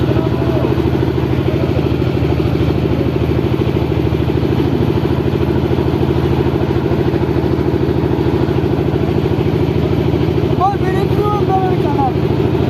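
A motorcycle engine runs steadily and close throughout a river crossing, giving a constant rumbling drone, with people talking over it.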